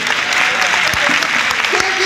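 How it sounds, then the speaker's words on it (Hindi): A meeting audience in a large hall breaks into loud, dense applause that holds steady throughout. Scattered voices and shouts rise within the clapping. "जोरदार ताली होना चाहिए।"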